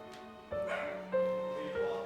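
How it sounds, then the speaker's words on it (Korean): Several lively puppies playing together give short yips and whining barks over a background tone, close and moderately loud with a couple of sustained whimpering cries. "활발한 강아지들 사이 함께 뛰어노는 순수를 발견했습니다"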